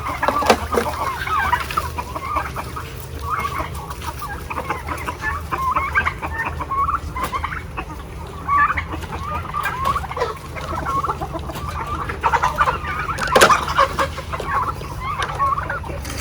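Native chickens cluck and chatter steadily at close range while they are fed, a busy flock with overlapping calls and no talk.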